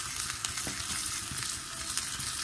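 Finely chopped shallots sauté in a pan with a steady, close sizzle, and a spoon scrapes and stirs them in brief repeated strokes; someone speaks over it.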